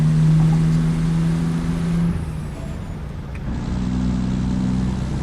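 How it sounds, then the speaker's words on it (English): Heavy truck engine in American Truck Simulator pulling through its gears, a loud close droning rumble that dips as a shift happens mid-clip and then builds again, with a brief hiss of air. "Now we're going through our gears."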